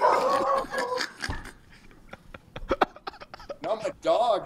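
Dogs yip and bark in short irregular bursts indoors, mixed with a person talking and some laughter, the barks fairly close and loud between the phrases.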